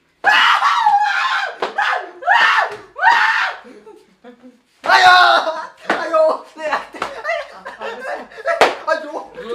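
A young man in a hostel screams loudly after being struck, his drawn-out yells mixed with shouting, slaps and laughter from others in a chaotic, close scuffle.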